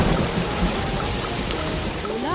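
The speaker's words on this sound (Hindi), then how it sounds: "अरे कितनी बारिश हो रही है" Heavy rain pouring down during a thunderstorm, a loud continuous hiss of drops with low rumbling beneath and no voices.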